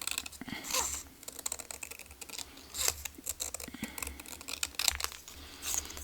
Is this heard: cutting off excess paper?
yes